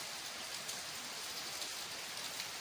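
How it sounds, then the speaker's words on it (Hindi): Steady rain falling on surfaces, a soft, even patter of drops heard alone at a low, constant level throughout. "तो अभी भी गाइस हमें बारिश जो है ना वो लगी हुई है"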